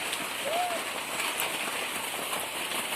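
Continuous rain hisses evenly throughout, with a brief faint tonal chirp early on.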